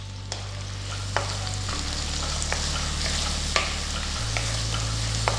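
Finely chopped onions frying with whole spices in a pan, giving a steady, close sizzle with a few soft stirring clicks and taps over the top.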